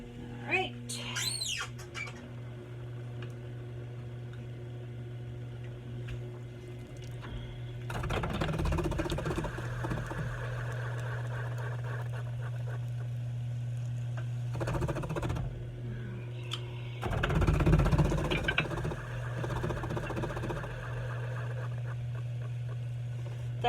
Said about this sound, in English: that awful chunking noise is the noise of the metal plate on the strong arm clonking against the holes